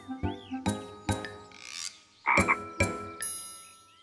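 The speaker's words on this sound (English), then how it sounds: "The little frog jumped out of the bucket." A little cartoon frog croaks in a string of sharp, punchy croaks separated by short gaps, with a springy twang and a high sliding tone mixed in, all loud and close.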